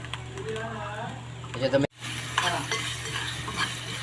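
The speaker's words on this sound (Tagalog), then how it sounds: "So ayan, gigisa na natin guys." Ingredients sautéing in a pan for kare-kare, a close, steady frying sizzle with stirring and a brief cut partway through, while someone talks over it.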